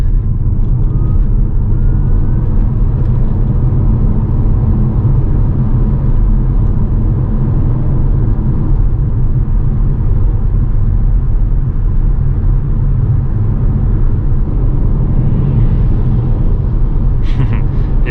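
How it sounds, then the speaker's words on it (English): A Tesla Model S electric motor whirs as the car accelerates, a steady loud low rumble with road noise that holds throughout, with a faint rising tone and a brief sharper sound near the end. "It's just the whir of the electric motor building up."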